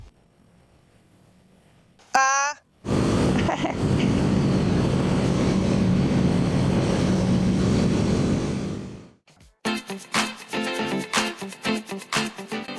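A Kawasaki Eliminator 500 motorcycle rides through corners with a loud, steady engine drone and wind rush, cut by brief jolts and ending in choppy, gusty buffeting.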